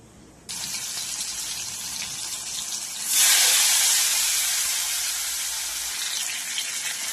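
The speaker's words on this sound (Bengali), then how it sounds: "এইবার এই বড়াগুলোকে আমরা মুইঠাগুলোকে ভেজে নেব" Shrimp muitha dumplings drop into hot oil in a kadai, bringing on a steady, close frying hiss that swells louder partway through and keeps sizzling with no talking.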